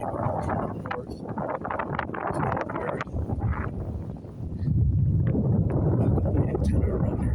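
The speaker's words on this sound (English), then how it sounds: "Wind is starting to pick up even more from the north." Strong north wind buffets the microphone beside a dock on the Intracoastal Waterway under a gale warning, a steady loud roar with low rumbling gusts that swell heavier in the second half.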